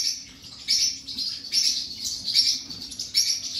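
Young birds in a crowded coop give a rapid series of thin, high chirps and tweets close by, repeating in quick bursts with no talk.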